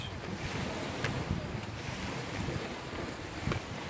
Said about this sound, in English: I hope you guys are enjoying the sound of the water.